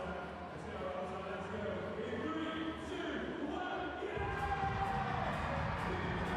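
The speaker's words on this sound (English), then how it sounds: "crowd loving this" A crowd cheers at a Paralympic men's sitting volleyball classification match between Morocco and Rwanda in London. The hall roar is steady and broad, swells louder partway through, and a commentator talks over it.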